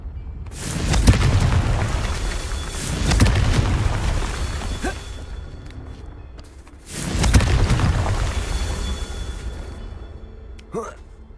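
Booming blasts of the Confringo fire spell in the video game Hogwarts Legacy, two big rumbling explosions a few seconds apart with crackling tails, the second fading into a brief whoosh, with voices in the background.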